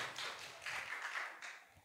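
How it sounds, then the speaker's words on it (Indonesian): Audience clapping at a school research seminar, a short round of hand claps that swells and fades in uneven bursts, moderately quiet and without talk. "Tepuk tangan dong buat Fatih."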